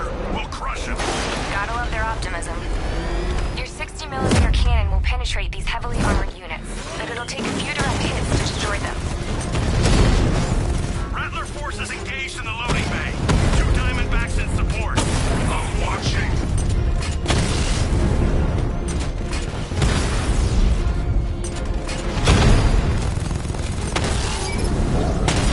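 The 60mm cannon of a Diamondback tank in the video game Batman: Arkham Knight fires repeated heavy booms amid mechanical clanks, explosions and game dialogue, dense and loud throughout.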